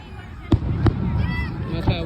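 Fireworks exploding outdoors near Sheboygan, two sharp booms in quick succession and a fainter later one, with crackling and people chattering in the background.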